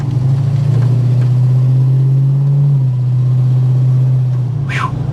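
A Holden HK car engine drones steadily at a constant low pitch while driving, loud and close throughout from the cabin, with no talk over it.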